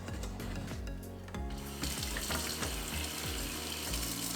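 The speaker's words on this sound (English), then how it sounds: "So now I'm going to take off my gloves and wash up" Water runs steadily from a kitchen faucet into a sink as hands are washed after removing gloves, a loud continuous splashing rush with shifting gurgles.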